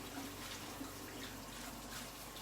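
Tap water runs steadily into a kitchen sink while a food processor is rinsed out, a continuous close splashing hiss with no talk over it.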